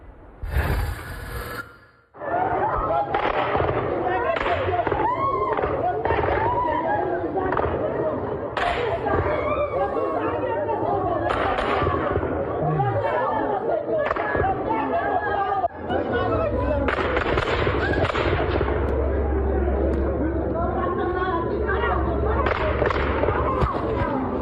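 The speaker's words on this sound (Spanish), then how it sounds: "elementos del Ejército y un grupo de sujetos armados se enfrentaron a tiros en el poblado de Trincheras" Gunfire during an armed clash between army soldiers and gunmen in a Sonora village: repeated sharp cracks and bursts scattered throughout, mixed with loud chatter and voices close by.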